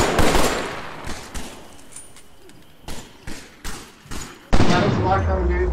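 Gunfire in the VR shooter Killing Floor: Incursion, with a handful of sharp separate shots and thumps spaced over several seconds, loud and close, ending in a heavier burst, while players talk over it.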